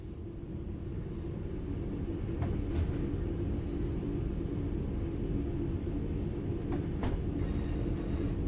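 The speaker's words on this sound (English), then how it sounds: "The train will then coast on level ground and only slow down very gradually." A train in the Train Sim World 5 game coasts on level ground with a steady low rumble and hum, broken by a couple of faint clanks, unchanging and continuous throughout.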